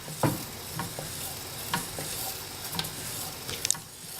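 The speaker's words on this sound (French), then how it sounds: "on touille en permanence jusqu'à ce que le chocolat soit bien fondu" Chocolate melts while being stirred constantly for a chocolate mousse, giving a continuous soft hiss with light, irregular scrapes and taps of the utensil; no talking.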